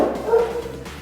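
A dog lets out a short whimpering bark-like yelp, close and moderately loud, over low background hum in a home setting.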